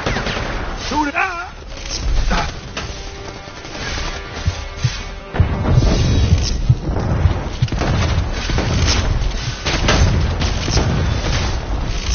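Heavy gunfire in Predator: Hunting Grounds, with sustained automatic bursts, booming blasts and crashing impacts filling the scene, while players talk and shout over the loud, continuous shooting.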